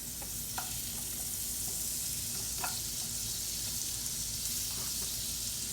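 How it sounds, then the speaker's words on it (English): Butter sizzles steadily in a hot cast iron skillet while apples are caramelized for an apple skillet cake, a constant close hiss with a few faint clicks and no talking. "But I got my cast iron skillet heating up. The first thing I'm gonna do, I want to get my apples nice and caramelized to go on top of the cake. So what I'm gonna do, put some butter in here."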